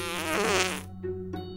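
A cartoon fart sound effect in an Among Us animation: one loud, buzzy, sputtering blurt that cuts off abruptly, followed by a couple of faint trailing puffs.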